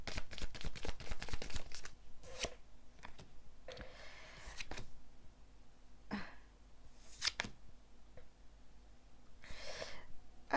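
A deck of oracle cards is shuffled by hand in a quiet room: a run of rapid riffling flutters at the start, then scattered soft card slides and taps.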